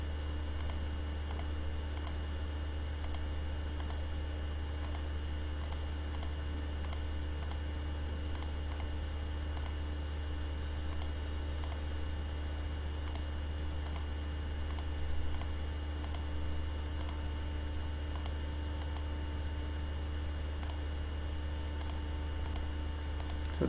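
Computer mouse clicking in structural design software, with sharp, regular clicks recurring every second or so over a steady low electrical hum, no voices.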